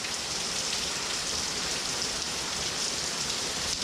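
Steady rain falling hard outdoors on a day of smoking chicken thighs, a dense continuous hiss of drops with no breaks and no voices.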